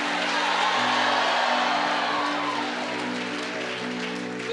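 A church congregation applauds in a sustained, dense wash of clapping that holds steady throughout, with a low tonal hum running underneath.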